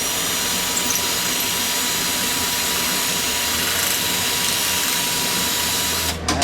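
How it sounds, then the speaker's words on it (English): A power drill whines continuously at high speed, loud and steady, grinding against a still-warm metal engine part of a Lifan 150cc motor while porting, before cutting off abruptly at the end. "we're going to be doing some hillbilly porting with this, but I'm not supposed to use a drill bit"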